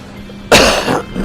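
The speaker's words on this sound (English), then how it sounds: "I'm coughing in that thing" A single sharp, close cough bursts out after a quiet stretch. It rings loudly for about half a second and then trails off into a softer, breathy tail.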